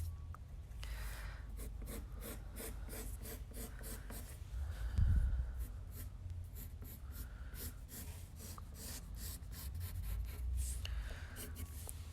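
Pencil drawing on paper, a long run of rapid, close scratchy strokes in a steady rhythm, quiet, with a soft breath or rub partway through.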